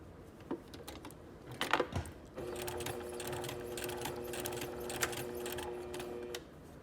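Sewing machine stitching fabric: a few clicks and handling noises, then the motor starts and runs a steady, fast rhythmic stitching whir for about four seconds before stopping, close and clear.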